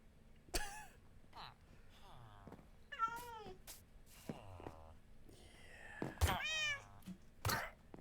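Several cats meow in Minecraft, a string of separate rising and falling mews spread across a few seconds, fairly quiet, with soft clicks and thumps between them.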